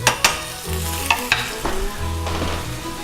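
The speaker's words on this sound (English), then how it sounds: "See how we're getting that nice little sizzle there?" Steady, loud sizzling of omelet ingredients frying in a pan, with a few sharp clinks and scrapes of stirring, no voices.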